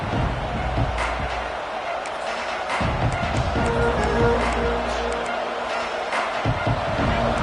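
A college football stadium crowd at a UCLA vs Ole Miss game roars with a broad, continuous wash of noise that rises and falls. A commentator talks over it.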